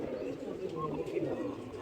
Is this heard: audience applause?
no